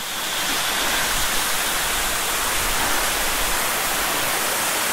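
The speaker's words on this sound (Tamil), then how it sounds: "நான் ஃபால்ஸ் கிட்டேயே வந்துட்டேன்." Thalanar waterfall in Valparai, a steady, loud, close rushing roar of falling water filling the scene without a break.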